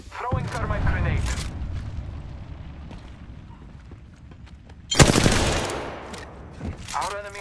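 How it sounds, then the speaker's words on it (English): Gunfire and a thermite grenade in the Apex Legends battle royale shooter, with bursts of rapid shots, a loud crackling blast partway through, and game voice lines over the action. "Throwing thermite grenade."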